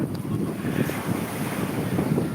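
Steady rushing wind over the microphone with a broad surf wash of waves rolling underneath at Konyaaltı beach, Antalya, Turkey, on a windy day, continuous and fairly loud, no voices.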